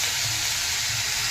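Small tomatoes fry in a pan with a steady, close, loud sizzling hiss that holds without a break and has no voices over it.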